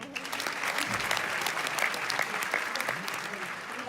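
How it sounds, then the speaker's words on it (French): Audience applause for a woman at a French comedy show, a sustained, moderately loud patter of many hands clapping, with a few voices faintly audible underneath. "applaudissez-la s'il vous plaît"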